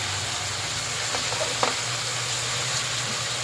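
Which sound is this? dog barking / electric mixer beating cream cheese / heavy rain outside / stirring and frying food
stirring and frying food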